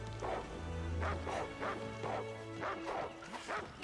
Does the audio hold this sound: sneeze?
no